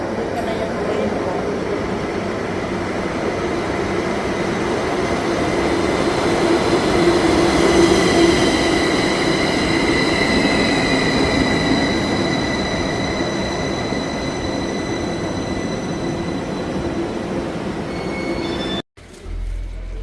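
Train pulling into a station in Bassersdorf, Switzerland on a hot day, a loud steady rumble of rolling wheels with high squealing tones gradually building then easing as it slows, a voice speaking over it, ending abruptly.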